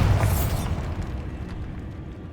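Bombarda spell explosion in Hogwarts Legacy: a loud, sharp blast with a swooshing onset that decays into a long rumbling tail, heard alone.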